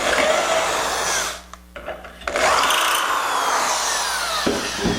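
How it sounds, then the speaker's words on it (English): A power drill bores through wood for mitered dowel joints on an entryway table drawer, a loud continuous whir that cuts out briefly midway, then spins up again and runs steadily to the end. "drill your last bore"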